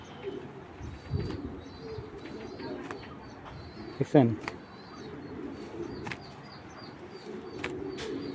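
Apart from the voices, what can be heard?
racing pigeon cooing and flapping wings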